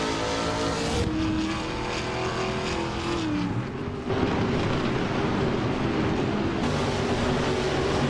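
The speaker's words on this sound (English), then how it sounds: "Kreshk is leading in a 2021 Ford Mustang from the Trans Am class" Race cars, including a 2021 Ford Mustang in the Trans Am class, roar continuously in a racing video game, with a dense, loud engine drone and shifting pitch as the cars accelerate and change gears.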